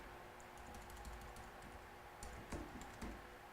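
Soft keystrokes on a computer keyboard as a short word is typed, a handful of light clicks spaced irregularly, quiet and close with no talking.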